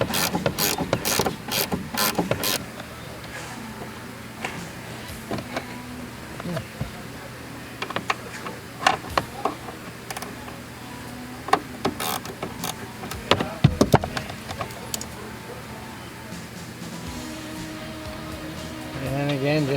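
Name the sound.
ratchet removing a strut nut on a 1998 Toyota Corolla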